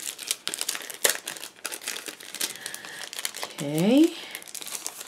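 Crinkling plastic sticker packaging during a studio haul unboxing, a close and loud rustle running under steady talk.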